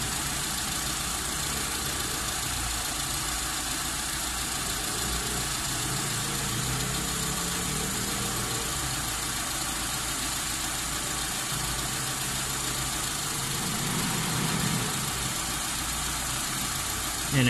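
A Mitsubishi 4G13 engine idles steadily during carburetor tuning, a continuous low mechanical hum and faint vibration at close range, with a radiator fan whirring along and a slight rise in revs late on.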